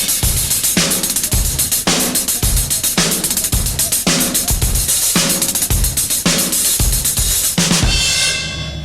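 Rock drum groove on a kit with kick and snare under five-stroke roll figures on the hi-hat, steady driving pattern of bright cymbal strokes and punchy low hits, finishing on a ringing cymbal.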